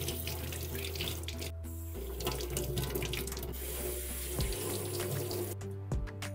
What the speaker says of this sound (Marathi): सो सगळ्यात आधी आता मी टोमॅटो, कोथिंबीर आणि कढीपत्ता धुवून घेणार आहे